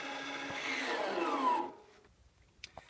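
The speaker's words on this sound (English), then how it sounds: "when you hear that sound, that means that your parking brake is engaged" A short electric motor in a Ford F-150 parking brake whirs for about a second and a half as it engages, then stops with a couple of small clicks, close and fairly quiet.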